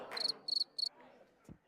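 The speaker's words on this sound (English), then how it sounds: "Literal fucking crickets." Crickets chirp in three short, bright trills close by, followed by a low faint thump, against an otherwise quiet background.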